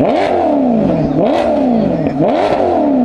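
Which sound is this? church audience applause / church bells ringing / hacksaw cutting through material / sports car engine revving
sports car engine revving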